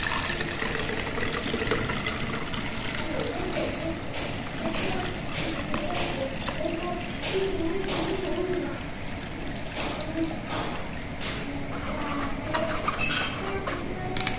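Warm homemade milk trickles steadily through a filter for yogurt, a soft, continuous liquid pouring and dribbling with faint clinks, quiet and close throughout.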